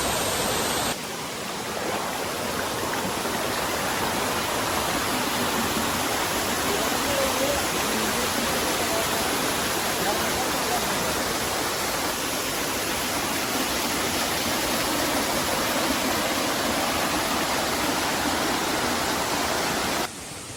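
A waterfall roars as a steady, broadband rush of falling water, loud and unbroken from start to end, heard close by with no voices.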